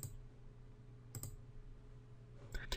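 A computer mouse clicks in Excel 2013, with a couple of sharp, close clicks near the start and a quick double click at the end over a low background hum.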